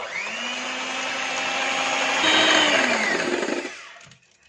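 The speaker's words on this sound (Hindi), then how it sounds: "3 अंडों को अलग अलग तोड़ के एक बाउल में डाल दिया है। इन्हें इतना बीट करेंगे कि वॉल्यूम में डबल हो जाए।" Electric hand mixer whirring steadily as it beats three eggs in a bowl for a vanilla sponge cake, a continuous motor drone with a shifting pitch that swells slightly before cutting off near the end.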